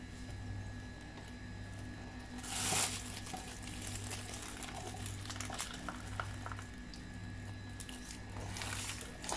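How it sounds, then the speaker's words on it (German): Mango juice poured through a funnel into a plastic bag gives a steady, soft liquid rush and gurgle, with a brief louder splashy burst near the third second and a low hum beneath throughout. "Einfach hier rein, schön festhalten und reingießen."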